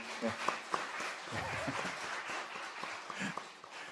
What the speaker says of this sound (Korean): 우리 박수로 한번 좀 격려하겠습니다.